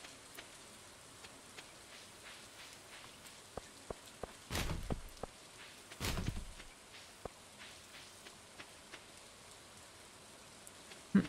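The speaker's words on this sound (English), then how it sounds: "Enjoy the rain." Soft, light rain patters steadily in the farming video game Stardew Valley, a faint hiss broken by scattered drip-like ticks and a couple of brief louder bursts.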